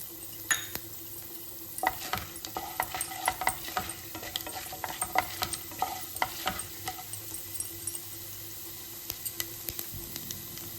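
Mustard seeds and chana dal frying in hot oil for coconut rice, with rapid irregular pops and crackles over a soft continuous sizzle, close up and without speech.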